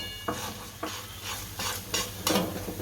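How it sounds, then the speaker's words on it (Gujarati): Semolina roasting in hot ghee in a pan, with a quiet sizzle under repeated rhythmic scraping strokes of a spoon stirring it, close and clear. "ઘી આપણું ગરમ થઈ ગયું છે, આ સૂજી નાખી દઈએ એમાં"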